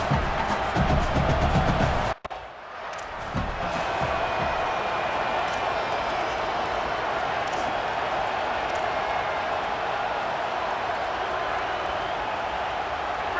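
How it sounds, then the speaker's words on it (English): Stadium crowd in the College Football 27 video game, Florida State vs. Clemson, making a loud, sustained roar of cheering that dips briefly, then continues steadily with no break. "This crowd still bringing the intensity to open the second half."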